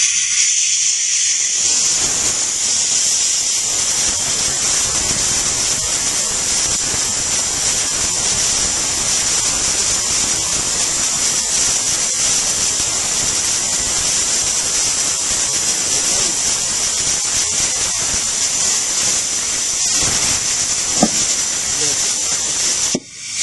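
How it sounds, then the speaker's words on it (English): A homemade vacuum fluid pump draws fluid from a car differential, making a loud, steady, close hiss of rushing air that runs almost the whole time, with a few faint knocks near the end. "when I pull this trigger, what should happen is just start pulling fluid out of that differential."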